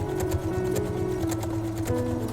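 Sewing machine stitching denim fabric for a hobo bag, a steady close mechanical whir with fast rhythmic needle pulses running continuously.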